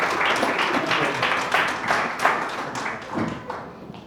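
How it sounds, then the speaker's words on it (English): An audience at a medical lecture on counselling in sexual medicine claps in a loose round of applause, with uneven bursts and thuds rising and falling. "Give them a big round of applause."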